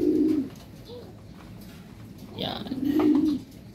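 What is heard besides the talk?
birds cooing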